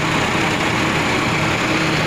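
Drilling rig and mud pump running at an open-cast mine drilling site, a steady, loud broadband mechanical drone with an engine-like rumble and no pauses.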